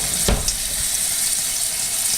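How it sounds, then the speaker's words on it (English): Prime rib fajita mixture is poured into a hot pan with a brief splash, then a steady close sizzle of frying meat continues throughout, with no talking. "So we just pour this in here. Yep, you can hear that sizzle."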